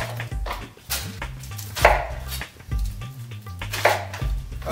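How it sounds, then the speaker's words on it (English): A knife chops ginger on a cutting board in quick, uneven bursts of firm thuds, close and clear, with no talk over it. "Same thing, chop up the ginger,"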